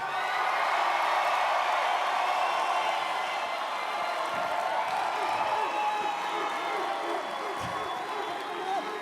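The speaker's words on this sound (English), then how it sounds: "if you think Barbara was the best, cheer" Studio audience cheering and clapping for Barbara Corcoran: a steady wash of applause and whoops from a full crowd, continuous and fairly loud from start to finish.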